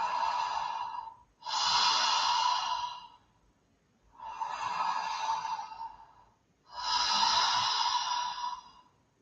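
Slow ujjayi yoga breathing, a constricted, ocean-like breath through the throat: three long, close airy exhales with soft inhales between, steady and breathy with no talking.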